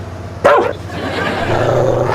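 A dog gives a single sharp bark close by, followed by a steady background hum, in an indoor scene from the sitcom The Big Bang Theory.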